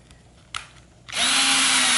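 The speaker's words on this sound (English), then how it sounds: "we'll screw it down" A power drill whirs up and runs steadily, driving a screw through welded washers into a wooden beer tote to mount a bottle opener, after a few quieter knocks at the start.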